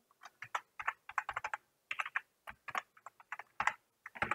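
Quick keystrokes on a computer keyboard while a password is typed, a close, irregular run of light clicking taps in short bursts with brief pauses, no voices.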